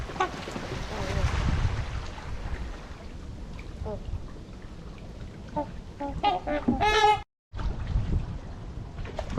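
Canada geese among winter waterfowl give scattered honks, a few harsh calls clustered in the later seconds over a background of wind and lapping water.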